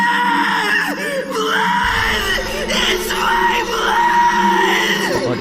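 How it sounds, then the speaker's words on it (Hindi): A man in an anime scene screams loudly in fear, a sustained, strained yell that rises and falls over several seconds, filling the whole clip at high volume. "फिर वो डर से बहुत ज्यादा चिल्लाने लगता है।"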